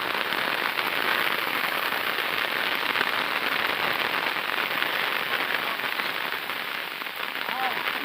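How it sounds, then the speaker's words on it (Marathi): Heavy rain pours steadily on a Konkan farm where bulls are kept, a dense, even hiss of drops striking surfaces that stays loud and unbroken throughout. "जोराचा आलेला आहे पाऊस."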